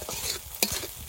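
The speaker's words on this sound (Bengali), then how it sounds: "মশলা কষানোর সময় একটু নিভে আঁচে কষাবেন" Ground spices frying on a low flame in a pan with dried chillies and peppercorns, a soft sizzle under scraping stirs, with a couple of sharp utensil taps, close and quiet.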